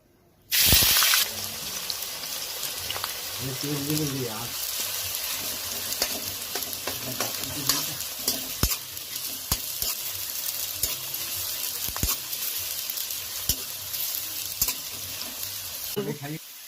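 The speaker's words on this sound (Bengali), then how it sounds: "এর মধ্যে আমি এই পেঁয়াজগুলো দিয়ে ভাজবো আর বেরেস্তা তৈরি করে নেব।" Sliced onions hit hot mustard oil in a pan, frying for mutton biryani with a sudden loud hiss, then a steady close sizzle and bubbling with occasional stirring scrapes and clinks throughout.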